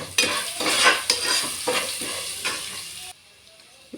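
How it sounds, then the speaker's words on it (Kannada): Ginger garlic paste frying in a pan for vangi bath, a busy close sizzle with repeated stirring scrapes, ending in a short quieter pause. "ಶುಂಠಿ ಬೆಳ್ಳುಳ್ಳಿ ಪೇಸ್ಟ್. ಇದೆಲ್ಲ ಚೆನ್ನಾಗಿ ಫ್ರೈ ಆಗಬೇಕು."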